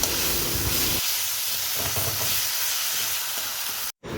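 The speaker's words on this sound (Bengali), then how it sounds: "এবার পুরোটাকে আমাকে ভাজতে হবে" Mutton fries with ginger garlic paste in a pan, giving a loud, dense, continuous sizzle with faint stirring underneath and a brief cut near the end.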